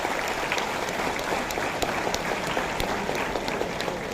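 An audience at a career guidance talk for students gives a sustained round of applause, steady overlapping claps with a few sharper individual hand claps standing out.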